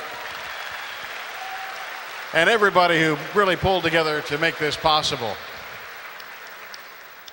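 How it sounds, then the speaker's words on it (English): Audience applause for the speakers at the close of an evening business presentation: a low wash of clapping from a crowd running throughout, with someone speaking loudly over it through the middle. "Could we have a round of applause for Kent and all of our speakers here tonight?"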